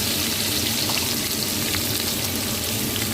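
Chopped garlic fries in hot oil, a continuous loud, close sizzle with fine crackling throughout the short stretch and no voices over it.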